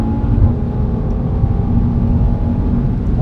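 An Audi RS3 accelerates under kickdown, heard from inside the car as a steady, loud engine drone with a broad low rumble that holds through the whole moment and has no talk over it.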